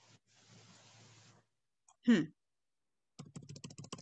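Typing on a computer keyboard during a basic typing lesson: a quick run of light, rapid key clicks comes near the end, after a short voice and some faint hiss.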